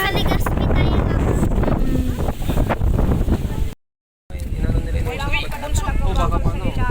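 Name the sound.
strong wind during typhoon Kristine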